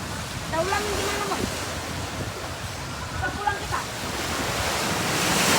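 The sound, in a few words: gentle breeze at Lake Toba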